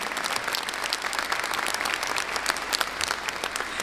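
An audience at a charity Christmas and New Year concert in Bytom applauds, a dense, even wash of many hands clapping that stays steady throughout.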